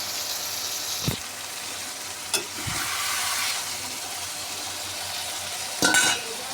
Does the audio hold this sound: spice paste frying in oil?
yes